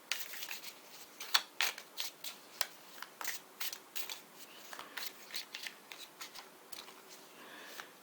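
Tarot cards being shuffled by hand, a dense run of crisp riffling and flicking snaps with sharp irregular bursts, close and fairly quiet, with no talking.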